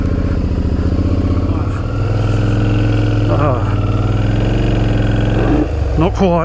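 Motorcycle engine laboring as the rider walks it up a rut, a loud close continuous engine drone with revs rising near the end, a voice speaking over it briefly.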